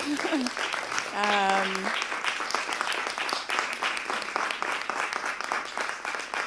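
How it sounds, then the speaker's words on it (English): An audience gives a round of applause for filmmakers at an academic event, dense clapping that swells and continues for several seconds, with a brief voice at the start. "maybe it's a good moment to have a round of applause for the filmmakers."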